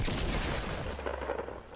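Rapid gunfire in the Fortnite video game, a dense burst of loud shots crackling and booming together, fading slightly near the end.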